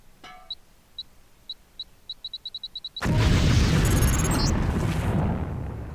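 A LAM explosive from the Deus Ex: Revision video game: a dozen quick electronic beeps, speeding up, then a loud, broad detonation that rumbles and decays over several seconds, with no voices.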